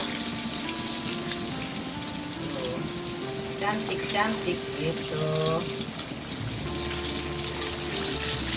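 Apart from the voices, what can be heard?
crispy chicken frying in oil over low heat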